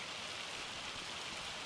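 Rain in the Farming Simulator 25 video game falls as a steady, even hiss of drops, faint and continuous, with no voices.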